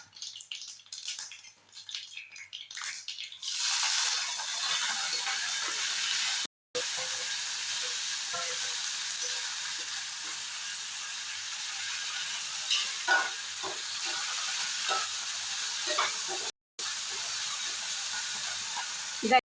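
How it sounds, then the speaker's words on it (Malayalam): Mustard seeds and fenugreek splutter in hot oil for a pickle, a continuous hissing sizzle with scattered sharp pops, close by after a brief quieter start, with no voices over it. "കടുകും ഉലുവയും പൊട്ടി തുടങ്ങി"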